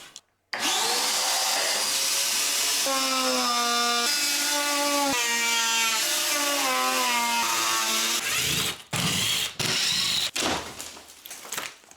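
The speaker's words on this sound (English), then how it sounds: "We're about to cut this drywall back and do the electrical." A power saw cuts back drywall during a tiny home kitchen remodel, a loud close whining motor whose pitch rises and falls as it bites into the board, then stops and restarts in short bursts near the end.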